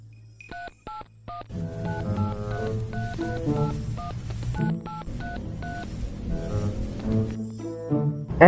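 A run of telephone keypad tones, short beeps at first, then rapid dialing tones over a low hum and background music, fairly close and clear.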